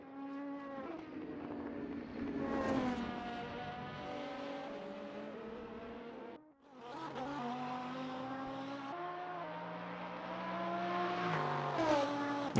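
A race car engine in a racing video game howls steadily with strong harmonic whine, dips sharply once mid-run, then climbs again through rising revs, with no talk over it.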